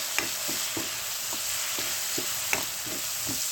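Onions and tomatoes fry for a tomato curd chutney: a steady sizzle broken by regular spatula stirs and scrapes against the pan, without any talk.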